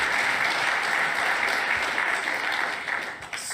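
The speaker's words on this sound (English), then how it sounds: "you guys need the round of applause for this facility" Steady, dense audience applause at the grand opening of an Alienware gaming lab, a continuous roar of many hands clapping at close range that barely dips before thinning slightly near the end.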